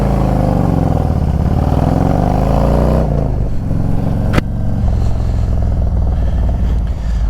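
Motorcycles fitted with Wilbers suspension fire up and rev inside a garage, the engine note climbing and falling in loud, close bursts, with a sharp crack partway through before settling into a rough, steady run.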